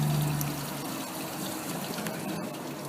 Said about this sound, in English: So just giving that a good flush out,